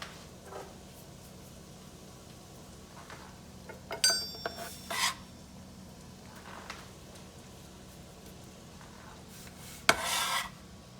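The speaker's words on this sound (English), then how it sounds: "we will scoop in the mushrooms" Mushrooms scooped from a board into a pan of browned garlic and butter, a few brief scraping and rubbing sounds with a soft sizzle underneath, fairly quiet and close.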